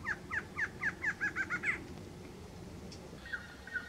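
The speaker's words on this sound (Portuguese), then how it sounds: "Essa é a choca-barrada." Barred antshrike calling at dawn near Sobradinho station in Uberlândia, a quick accelerating series of about eight nasal notes, fairly near and clear over quiet background, followed by a couple of fainter notes.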